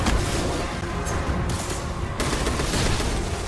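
Rocket fire from Destiny 2 in a Gambit Prime match, a dense, continuous barrage of rapid blasts and booming impacts that stays loud throughout with no pauses.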